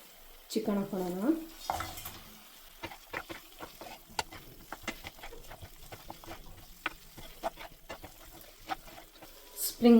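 Chicken pieces stirred and fried in a pan for a Indo-Chinese chicken lollipop starter, with steady sizzling and repeated scraping stirs; a brief voice and a clatter at the start.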